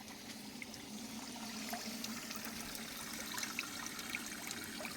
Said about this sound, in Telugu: ఇప్పుడు అలాగే ఈ 1000 లీటర్ల ట్యాంక్ నుంచి వెళ్ళి వేస్ట్ డికంపోజర్ను కూడా కలిపి ఇవ్వడం జరుగుతుంది ఈ పైప్ ద్వారా